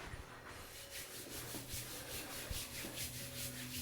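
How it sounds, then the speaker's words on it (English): Hands rubbing down a person's ribs during a gentle massage in a twisted torsion posture, a soft continuous friction with rhythmic swishing strokes, close and quiet, with no talking. "Giving these ribs a little rub down so that they are feeling a bit more open in this torsion"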